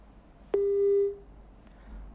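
A single steady electronic phone tone sounds when a call is cut off during a TV news phone interview, lasting roughly half a second against a quiet line hiss, with no talk.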